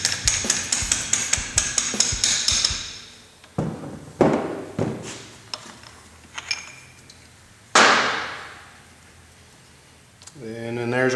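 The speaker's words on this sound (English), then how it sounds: "It's a little tight, so I may have to take me an extension and kind of tap it through there." Metal tapping with an extension bar knocks a tight wrist pin out of a piston from a Polaris RZR 800 top end, giving a quick run of sharp clinks followed by a few heavier isolated knocks, close and fairly loud.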